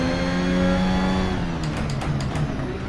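Cockpit engine note of the VRC Formula Alpha 2022 open-wheel car in Assetto Corsa at Silverstone, a close, loud buzzing drone that slowly drops in pitch as the car slows, followed by a burst of sharp rapid downshift blips.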